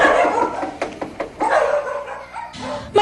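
Dogs bark outside a house in Tondo, Pangasinan, several sharp barks and yips in quick uneven bursts, fairly close, with no talk over them.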